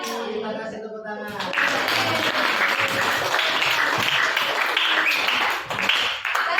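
An audience in a classroom presentation breaks into sustained, dense clapping after a brief stretch of tonal sound, loud and close, with some voices mixed in.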